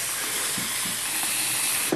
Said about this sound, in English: my favorite way to cook a lobster is to steam it